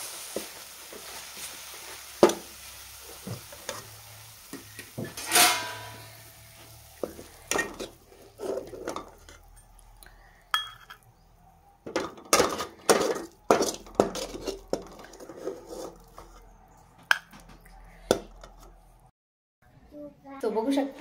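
Carrot halwa is scooped from a pan into a bowl or plate, with repeated spoon clinks and scrapes against metal scattered throughout, while people talk in the background.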